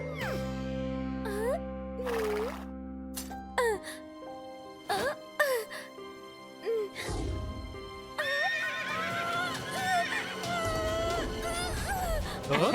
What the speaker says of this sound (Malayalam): കിറ്റി എത്ര മനോഹരമായിട്ടാണ് കുതിര ഓടിക്കുന്നത്.